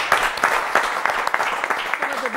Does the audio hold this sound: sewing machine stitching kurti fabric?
no